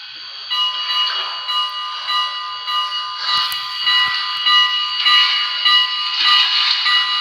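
Bell of a BLI Paragon 2 H-10s PRR model steam locomotive, a bright electronic bell ringing in a steady repeated rhythm, loud and close, alone with no talk.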